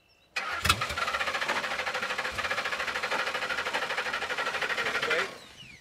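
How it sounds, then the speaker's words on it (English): A car engine cranks as the key is turned, producing a steady, rhythmic churning starter sound that begins abruptly and runs for about five seconds before cutting off, moderately loud, with voices heard briefly. "Crank the key. Turn the key. All the way."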